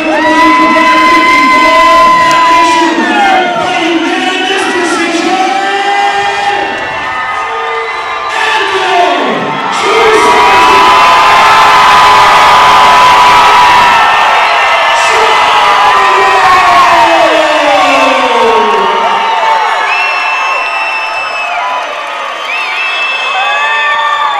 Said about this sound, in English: we're about to have a massive pop from the crowd